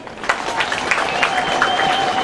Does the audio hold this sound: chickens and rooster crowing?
no